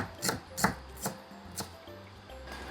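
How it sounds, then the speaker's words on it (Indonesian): A knife chopping shallots and garlic on a board, with five or six distinct sharp chops spaced irregularly, close and clear over a quiet kitchen background. "potong bawang merah sama bawang putih"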